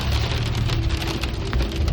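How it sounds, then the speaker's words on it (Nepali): Hail and rain pelting down on the road at Zuluk in Sikkim, a loud, dense and unbroken patter of hard drops hitting surfaces close by, with no talking. "अब चाहिँ चिया खाइसकेपछि चाहिँ अब हामी असिना पानी खाँदैछौँ."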